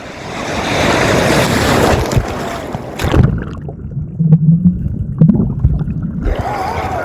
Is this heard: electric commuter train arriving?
no